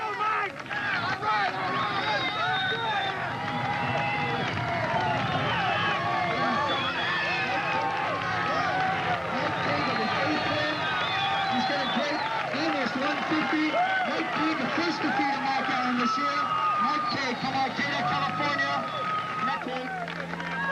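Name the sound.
crowd cheering at triathlon finish line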